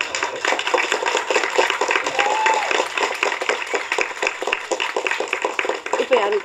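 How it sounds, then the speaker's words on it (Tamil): An audience claps for a speaker on stage, a dense continuous patter of many hands that carries on under loud talking throughout. "செம்மையாக கை தட்டுறாங்க உனக்கு"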